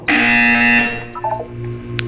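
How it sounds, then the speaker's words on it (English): A loud electronic buzzer from the video game Portal 2 blares steadily for under a second, followed by a brief run of stepped higher tones and a low background hum. "You will hear a buzzer. When you hear the buzzer, look down at the floor."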